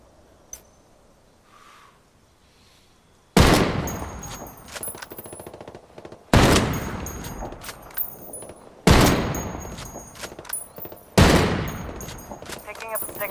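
Enemy gunfire in a video game arrives as four loud, sustained bursts of rapid automatic fire, each breaking in sharply after a quiet opening and decaying with echo, with brief louder cracks inside the volleys.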